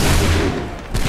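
Musket volley in Assassin's Creed III, a dense burst of overlapping gunfire crackling loudly for about a second and trailing off.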